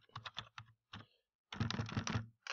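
A computer keyboard clicks in quick, close-up clusters of keystrokes as a password is typed at a login screen while setting up a Moodle course. There is a short pause before a denser final burst of typing.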